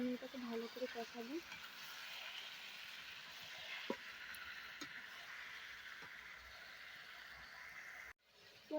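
Meat being sautéed in a pan of spice paste gives a steady, close sizzling hiss, with a few sharp clicks from stirring. A brief voice is heard near the start, and the sound cuts off abruptly near the end.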